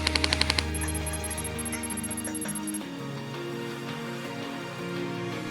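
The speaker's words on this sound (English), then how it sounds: "I'll measure the rate of fire here." An EMG Noveske Shorty Gen4 SilverEdge 2.0 airsoft AEG fires in a short burst and then keeps shooting in one steady, fast, continuous stream of full-auto cycling, loud and close, with music-like tones running underneath and no talking.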